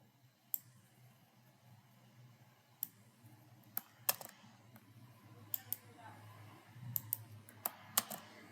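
Scattered, quiet clicks of keys on a computer keyboard, tapped one at a time at an irregular pace over a low background hum, with a voice faintly present.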